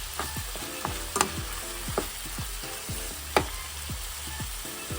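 Ground pork frying in a pan with garlic, a close, steady sizzle broken by repeated scraping stirs and a few sharp clinks of a spatula, no talking.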